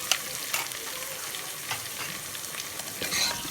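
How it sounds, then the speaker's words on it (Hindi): Masala of onion and tomato frying on a hot tawa for street-style tawa chicken, a steady close sizzle with a few scraping stirs of a spoon, no talking. "मसाला बहुत अच्छा फ्राई हो रहा है"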